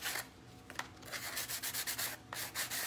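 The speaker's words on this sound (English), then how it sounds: "We're gonna go ahead and just sand that a little bit just to get those edges off." Hand sanding of the edges of a craft hat brim, a close, quick back-and-forth rasp of repeated rubbing strokes in a steady rhythm, heard alone.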